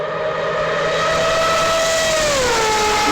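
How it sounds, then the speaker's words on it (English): A high-pitched rotary engine in a Mazdaspeed 787 race car screams steadily at high revs, its whining tone sliding downward near the end as it passes or shifts. "it made some of the most incredible noises to ever come out of a car"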